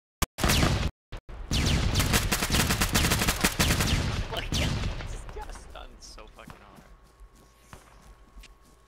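Gunfire from the Arma 3 video game: a few sharp close shots, then a dense burst of rapid automatic fire that gradually thins out and fades into scattered distant shots, with some voice chat heard.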